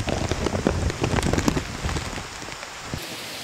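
Steady rain falling hard on a surface in Indonesia, a dense patter of drops, loud and close, easing slightly toward the end, with no voices.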